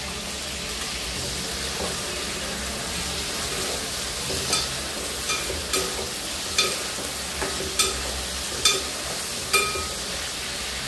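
Tomatoes fry in a pan for pachadi, giving a steady soft sizzle with about eight sharp utensil scrapes and clicks from stirring spread through the second half.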